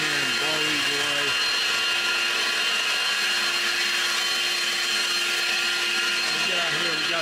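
A cordless leaf blower on high power blows leaves and dirt off a workshop floor, giving a steady, loud whooshing whine that runs without a break. A voice can be heard faintly under it.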